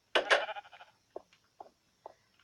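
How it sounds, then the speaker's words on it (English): A video game sheep gives one loud wavering bleat, then three short quieter bleats spaced apart inside a blocky building, with no talk over it. "And I do not know why a sheep"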